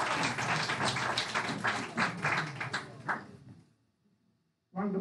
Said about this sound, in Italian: E le facciamo un applauso